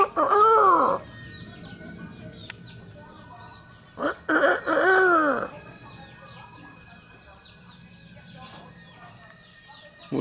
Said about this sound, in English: The old rooster in the shade.